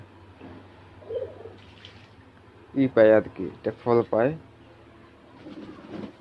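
Pigeons coo softly in the background while someone talks over them.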